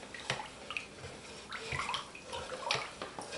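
Goat milk soap mixture with oatmeal, milk and honey fragrance being stirred in a pot, a wet sloshing and swishing with light clinks, close and continuous without talk.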